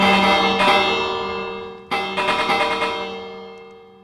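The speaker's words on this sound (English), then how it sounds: "Here, I'm gonna ring the bells for these guys." A bell struck twice in a Minecraft world, each clear metallic clang ringing on and slowly fading, with a faint echo and no talking.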